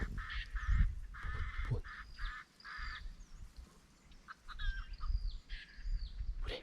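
Wild fowl, Lao jungle fowl, call back and forth with a series of harsh, nasal honking cries, loud and close, in irregular bursts separated by brief pauses, in forest.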